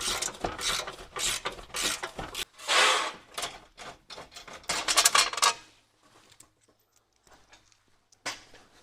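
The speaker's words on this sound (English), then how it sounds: "Use a 13mm ratcheting wrench to remove them." A 13mm ratcheting wrench clicks rapidly and loudly in close bursts while loosening skid plate fasteners under a 2025 RAM truck, followed by quieter pauses and a final short run of clicks.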